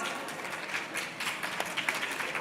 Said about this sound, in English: Let's give the Congresswoman another round of applause.